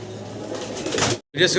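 Low, throaty coos from a pair of Black Danish pigeons repeat steadily through the clip, close by, with a short silent gap near the end.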